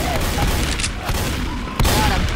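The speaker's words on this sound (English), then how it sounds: "Nothing like shooting some zombies." Rapid gunfire shooting zombies in Left 4 Dead 2, a close, loud burst of repeated shots with a heavy blast near the end, over muffled game noise.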